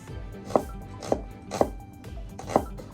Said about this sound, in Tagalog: Chop lang naman to, no.